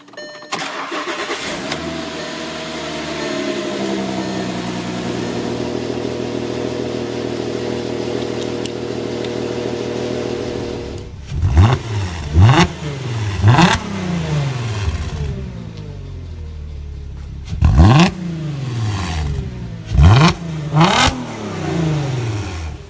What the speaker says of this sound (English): I need to start up the car for about 10 minutes